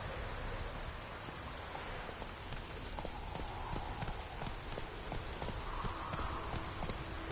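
Horse hooves gallop in The Witcher 3 video game, a steady rhythmic clip-clop at a quick pace over a constant rain-like ambient hiss.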